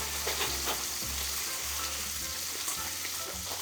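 A meat sauce cooks down in a pan with a steady, moderately loud sizzle and bubbling that carries through the whole stretch with no talking.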